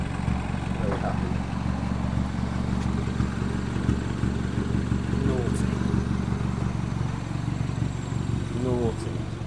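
Mini Cooper S R56 with a custom exhaust, a steady loud engine drone with rumbling exhaust throughout, while a person talks over it.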